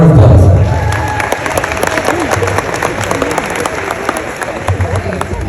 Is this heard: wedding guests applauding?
yes